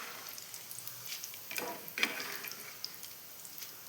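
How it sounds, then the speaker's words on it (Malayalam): Chickpeas fry in hot oil for a homemade mixture snack, giving a faint, steady sizzle with a few soft scraping and clinking sounds as they are scooped out; no one speaks. "അപ്പോൾ ഞാനിതാ വറുത്ത് കോരുന്നുണ്ട്"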